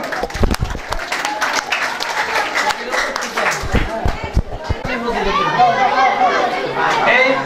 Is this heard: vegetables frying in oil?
no